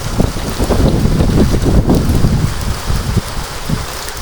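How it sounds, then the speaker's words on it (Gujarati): Heavy rain pours steadily and loudly, mixed with gusty wind buffeting the microphone, a dense continuous wash with no voices. "હવે વરસાદ તો રહેવાનું નામ લેતો જ નથી"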